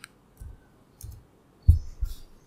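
Computer mouse clicks during virtual machine setup, four or five soft, close clicks spaced about half a second apart in a quiet room.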